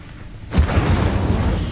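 An Incendio fire spell cast in Hogwarts Legacy bursts in with a sudden loud whoosh after a quiet start, then a dense fiery roar with a few low thumps that holds steady to the end.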